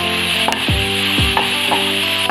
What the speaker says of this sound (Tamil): இந்த நறுக்கி வச்சுருக்க வெங்காயம், பெரிய வெங்காயத்தை போட்டு நல்லா ஒரு 2 நிமிஷம் வதக்கினா போதும்.